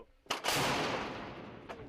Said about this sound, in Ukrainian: Радянська зенітна гармата С-60 і снаряди до неї